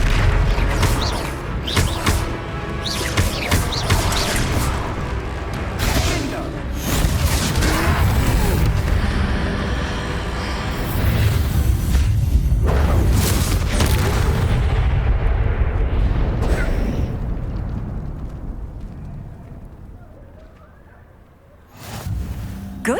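Confringo fire spells in Hogwarts Legacy burst in repeated loud booming explosions during a troll fight, heavy rumbling blasts piling up, then fading toward the end before one last hit.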